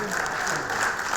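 Market women and artisans applaud at a Benin women's movement political event, a dense, steady wash of clapping that fills the whole moment with a faint murmur of voices mixed in.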